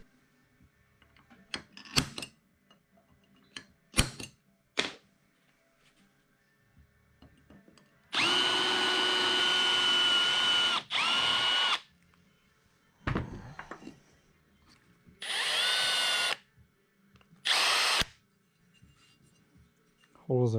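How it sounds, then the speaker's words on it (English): A power drill bores holes for a heavy-duty bass boat graph mount, whining in several sustained bursts of a few seconds each, close and loud, separated by clicks, knocks and quiet pauses. "Let's drill some holes."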